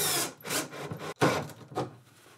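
Offcut pieces of multiplex plywood laid into place between workpieces in a workshop: a few close wooden scrapes and knocks, rubbing and sliding wood against wood, with a brief sharp clack near the middle.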